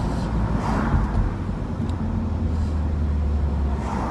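Engine of a high-mileage BMW E46 M3 SMG with 179,000 on the clock, just after a VANOS rebuild, drones loudly with a steady low rumble and slight swells in pitch, close and continuous, with no speech.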